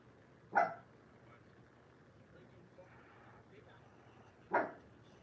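A dog indoors gives two short, sharp barks about four seconds apart, fairly faint against a quiet low hum.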